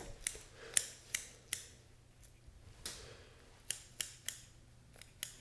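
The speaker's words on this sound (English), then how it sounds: "Take our scissors and kind of dig in a little bit and snip that out." Scissors snip through bone and meat while skinning a wood duck for a standing mount, giving about a dozen crisp, close metallic clicks at irregular intervals over a quiet background.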